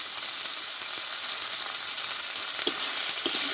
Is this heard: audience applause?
no